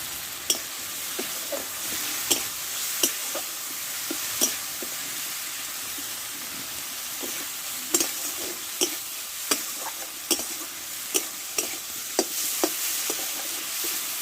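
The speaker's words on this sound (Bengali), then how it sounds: "দেখো মশলাটা ভালো করে আমি কষে নিয়েছি" Spices and turmeric frying for a fish roe kofta curry, a steady sizzle broken by sharp, scattered clicks of a spatula against the pan.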